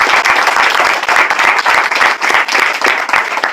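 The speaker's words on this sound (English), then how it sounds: "Can we have a round of applause for Mr." An audience gives a round of applause for two men being honored at a leadership talk, dense steady clapping that stays loud and close throughout with no voices over it.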